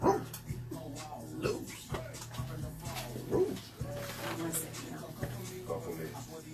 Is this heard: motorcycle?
no